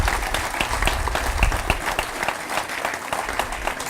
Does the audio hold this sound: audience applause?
yes